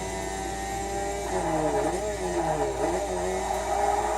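A rotary-engine car in Forza drones steadily, its pitch rising and dipping in repeated revs as gears shift, loud and continuous with no talking.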